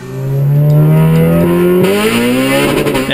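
Honda VTEC engine revving hard, its strained note rising steadily and then jumping sharply as the variable valve timing engages near 6,000 rpm; loud, close and continuous with no talking.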